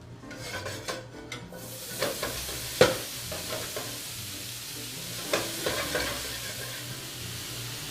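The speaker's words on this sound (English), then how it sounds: "we're going to take our andouille sausage and our ham, we're going to saute them off, and we're going to brown them in our skillet" Andouille sausage and ham browning in a skillet, a steady soft sizzle with frequent scraping and stirring clinks of a utensil against the pan, close and fairly quiet, with no talk.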